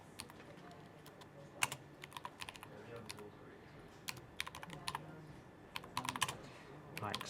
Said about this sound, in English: So I'll go in here and type in my next bit of text.